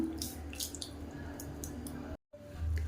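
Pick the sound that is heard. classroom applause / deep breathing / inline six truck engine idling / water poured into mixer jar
water poured into mixer jar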